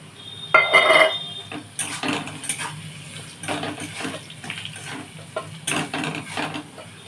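Water is poured into a cooking pan of taro-leaf curry seasoned with salt, turmeric and ground cumin, giving soft splashes alongside a bright metallic clink early on, then scattered light clatters of pan and utensil.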